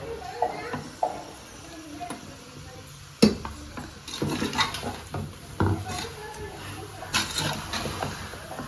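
Rice and coconut powder are added to a country-chicken curry and stirred in a pot, with scraping and clinking of a spoon against the metal, one sharp knock, and voices and household noise underneath.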